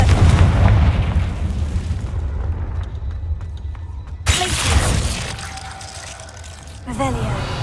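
The Confringo fire spell in Hogwarts Legacy goes off in a loud booming explosion with crackling debris, followed by a second blast as the first one fades.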